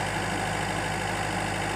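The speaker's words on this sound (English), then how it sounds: "Eventually went and got the tractor." Tractor engine idling in four-wheel low on a rural property, a steady, close, continuous low rumble with an even mechanical drone and no talk.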